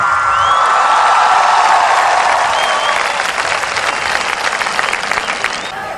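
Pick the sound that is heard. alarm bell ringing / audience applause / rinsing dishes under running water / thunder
audience applause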